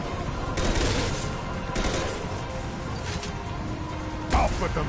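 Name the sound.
gunfire in a video game (Mass Effect 2 Legendary Edition)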